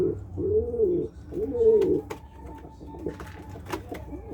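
Pigeons coo in soft, repeated warbling phrases close by, two clear throaty calls followed by quieter cooing and faint chirps against a calm background.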